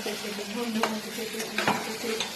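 Chillies and onions frying in oil in a pan, a continuous close sizzle with repeated stirring scrapes and a few sharp utensil knocks.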